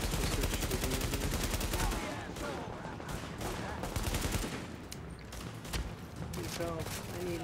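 Cops and agents open fire in The Division, producing dense, sustained volleys of rapid gunshots that crackle loudly and overlap, with brief thinner stretches between bursts.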